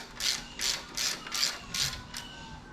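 A socket ratchet clicks as it loosens a bolt on a Toyota alternator, with six bursts of rapid pawl ratcheting at an even pace, close and clear with no talking.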